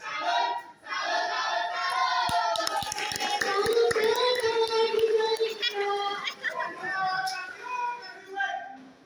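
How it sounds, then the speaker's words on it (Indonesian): Audience clapping at a talk show, mixed with cheering voices and sharp individual claps, heard loud and close with people talking and shouting over it. "sekali lagi kita beri tepuk tangan yang meriah dong untuk Adi Salma dan Kana Bila"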